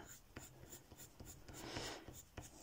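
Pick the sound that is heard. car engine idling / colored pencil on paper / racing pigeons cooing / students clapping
colored pencil on paper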